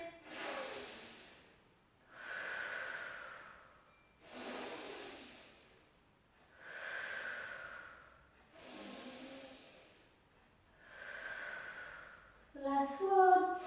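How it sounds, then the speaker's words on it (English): Slow, deep breaths during a barre floor stretch, six long inhale-exhale swells spaced about two seconds apart, close and breathy, with a brief sharper burst at the end. "Take a beautiful breath in"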